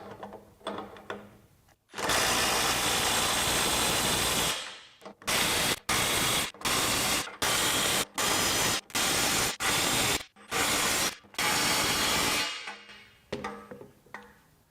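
A cordless mid-torque impact wrench with a socket and welded adapter, a Snap-On CT-9010 or Milwaukee 2960, runs in forward on a full battery: one long loud hammering burst, then about nine short rapid bursts with brief gaps.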